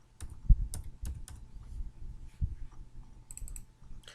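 Scattered keystrokes on a computer keyboard, a few sharp clicks spread unevenly across a few seconds, close and fairly quiet with no talking.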